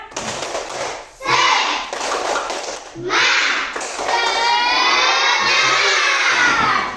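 Children in an Indonesian classroom clapping a rhythmic spirit chant in loud bursts, with shouting and cheering between rounds and a sustained burst near the end.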